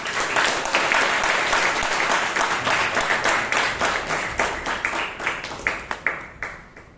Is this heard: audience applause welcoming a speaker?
yes